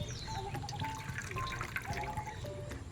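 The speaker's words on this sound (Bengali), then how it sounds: "এরপর জলে দু থেকে তিনবার ভালো করে ধুয়ে নেব" Fresh thankuni (Centella) leaves being washed by hand in water, with steady splashing, sloshing and dripping close by and no voices.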